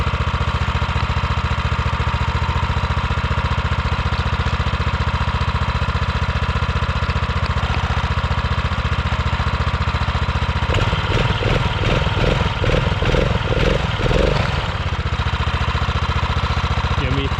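A Rokon motorcycle engine idles steadily in deep snow, with a louder burst of throttle near the end as it struggles; people talk briefly nearby.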